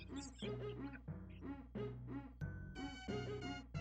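Small birds crying in the Super Famicom video game Daikaijū Monogatari, a series of repeated chirpy, quacking electronic calls in a steady rhythm over soft synthesized game music.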